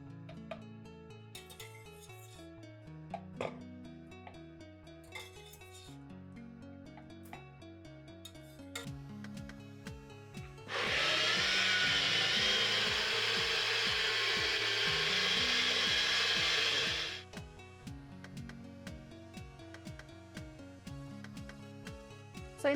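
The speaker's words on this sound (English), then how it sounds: "I am going to transfer it to a jar and I am going to grind it separately now." A mixer grinder jar blends bottle gourd for soup in a loud, steady whir lasting several seconds, starting and stopping abruptly amid quieter kitchen background sounds.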